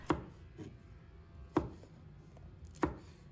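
A knife chopping small chili peppers into rings on a board, three crisp, evenly spaced thuds with a softer tap between, quiet and close.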